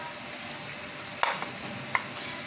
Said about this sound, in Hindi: अब ये तेल में कड़कड़ कड़कड़ की आवाज़ आ रही है और ये चढ़चढ़ा रहा है, सो हम इसमें डाल देंगे अपने आनियन